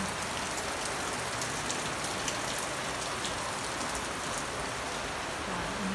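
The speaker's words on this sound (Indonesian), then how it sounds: "Ini ada suasana romantis di masa hujan." Rain falling steadily at an outdoor coffee shop, a dense continuous hiss of drops on surfaces with faint scattered patters, no voices.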